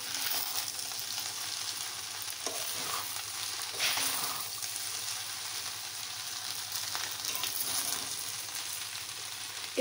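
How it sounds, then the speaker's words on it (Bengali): Coriander leaves are stirred through soybean pulao as it fries in a pan, giving a steady, even sizzle with soft scraping from the stirring. There is no talk over the sound, and it keeps going for the whole stretch. "সব যেন ভালো করে মিশে যায়, সেজন্য ভালো করে ধনে পাতাটা নেড়ে নেব"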